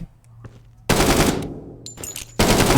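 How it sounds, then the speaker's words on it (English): A flashbang grenade bursts in the tactical shooter Door Kickers 2, two loud sharp blasts with a hissing ringing tail between them, close and dominant over a faint background hum. "is going to chuck a flashbang right there. And that is going to stun anyone in that area."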